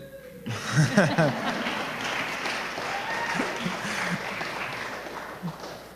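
An audience of Hillary supporters breaks into applause, a dense, steady clapping that runs throughout, with a voice and some laughter heard briefly near the start.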